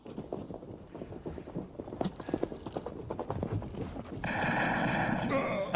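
Hooves clip-clop at a brisk trot for about four seconds in the 3DO game Mad Dog McCree, then give way to a steady buzzing electronic tone.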